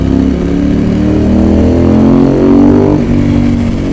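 A Ducati 916 motorcycle engine grunts loudly while being ridden, a deep, close, continuous rumble that swells and eases with the throttle.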